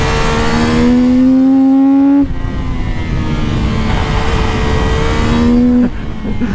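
A CFMOTO 675 NK motorcycle engine revs hard on a track, loud and close, climbing through rising pitch sweeps. A sharp drop in the middle marks a gear change, then it builds again before another shift near the end.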